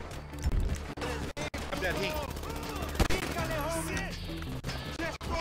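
Bursts of gunfire in GTA V crack out in rapid, loud volleys, alongside a steady heavy engine drone, while someone speaks over the shooting.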